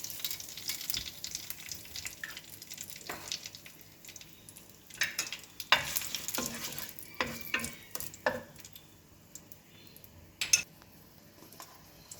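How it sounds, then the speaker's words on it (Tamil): Bay leaf and cardamom fry in oil in a pan with a soft sizzle, broken up by stirring and a few sharp clinks of a utensil against the pan, heard up close with no talking. "ஒரு பேனில் எண்ணெய் ஊற்றிருக்கேன். நான் ரொம்ப ஸ்பைசஸ் இருக்குல்ல, இந்த பிரியாணி இலையும் கொஞ்சோண்டு ஏலக்காவும் தான் எடுத்திருக்கேன்."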